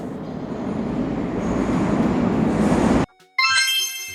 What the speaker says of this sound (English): A commuter train carries workers and students daily.